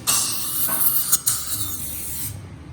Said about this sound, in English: I will then drill between my two fingers, staying inside the buccal lingual plate.